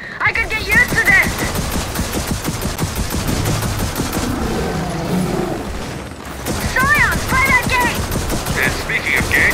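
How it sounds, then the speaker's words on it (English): Industrial staple guns in Gears of War 4 fire in rapid, steady mechanical bursts that run through nearly the whole stretch, loud and close, with metallic clatter and brief voices over the barrage. "I think it's safe to say these industrial staple guns work."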